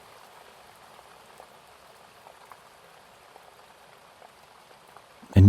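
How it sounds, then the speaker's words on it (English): Soft, steady rain pattering during a thunderstorm, faint and even throughout with scattered drips, no thunder clap standing out, and a brief louder knock right at the end. "with the sounds of the rain"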